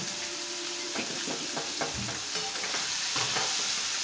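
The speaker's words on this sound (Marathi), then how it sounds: "कांदा सगळं टाकायचं तिथे जरा भाजून घ्यायचं" Chopped onion sizzling and frying in a pan, stirred with scrapes and clinks of a utensil, a steady close hiss filling the whole stretch with no talk.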